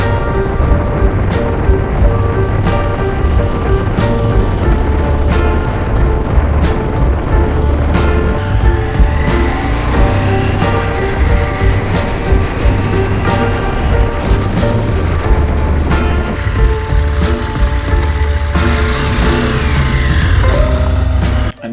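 A motorbike on the dirt road toward Sloquet Hot Springs gives a continuous engine drone under a heavy, unbroken roar of wind across the microphone, loud and constant throughout.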